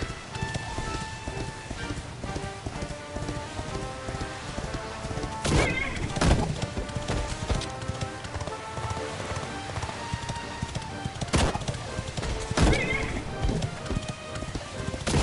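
Hoofbeats of a horse being ridden in the video game Dragon Quest XI, steady clip-clopping with music underneath and occasional sharper thumps, continuous throughout.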